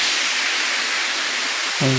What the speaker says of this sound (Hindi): इस झरना की किकरांग काना